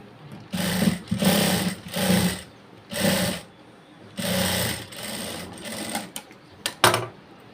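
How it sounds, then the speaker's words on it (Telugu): Sewing machine stitching blouse fabric, loud close mechanical whirring in several bursts of about a second each separated by short pauses, ending with a few quick clicks. "ఈ క్లాత్ని ఇలా టర్న్ చేసి ఇక్కడ అణిగి కుట్టు అనేది వేయాలి"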